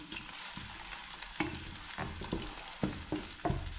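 Steady sizzling of pancetta frying in a pan, with intermittent scraping and tapping of a utensil stirring it.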